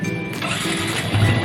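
A Yamaha Vixion motorcycle with an electrical fault makes a starting attempt, giving a short burst of mid-pitched engine churn that carries on steadily for about a second and a half, close and loud.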